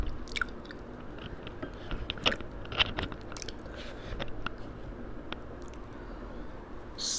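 Someone bites into a massive sour green mango and chews its firm, crunchy flesh, giving sharp separate crunches followed by softer, moist chewing, close up, with no talking.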